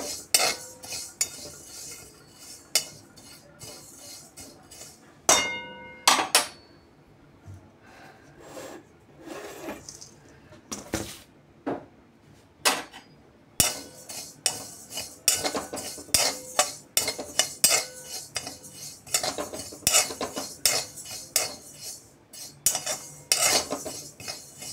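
A spoon stirs dry chakli bhajani flour mix in a pan off the heat, making repeated close scraping and clinking strokes in an uneven rhythm across a long stretch, with brief quiet gaps between bursts.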